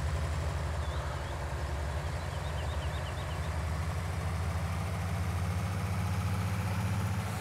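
A heavy truck engine in Farming Simulator 19 runs at a steady idle, a continuous low rumble held at even loudness throughout.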